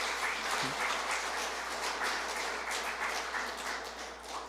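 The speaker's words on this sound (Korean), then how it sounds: "공감하시면 박수 주겠습니다" Audience applause at a lecture on the root causes of low birth rates, a steady dense wash of clapping throughout, moderately loud.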